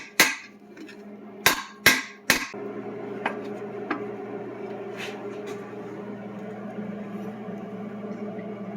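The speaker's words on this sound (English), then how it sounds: "use a punch and knock it down to where it needs to go" Hot rod rear suspension fabrication: a hammer drives a steel punch to knock metal into place, with four sharp ringing strikes, the last three in quick succession, followed by lighter taps over a workshop hum.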